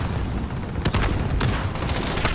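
Gunfire in a Call of Duty: Modern Warfare match, with a loud, dense burst of shots and booms filling the whole moment, including the crack of a Kar98 bolt-action rifle amid the surrounding battle.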